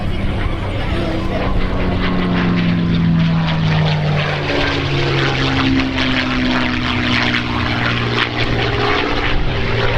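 P-51 Mustang propeller warplane with a Merlin engine flying at an air show, its steady loud droning roar with slowly shifting engine tones filling the whole span, close and continuous.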